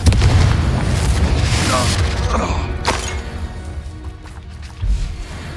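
Spell blasts from the Bombarda and Confringo spells boom and crack in Hogwarts Legacy during a goblin battle. A heavy rumbling explosion opens the clip and fades out, followed by creaks and a second low thud, with a voice speaking over them.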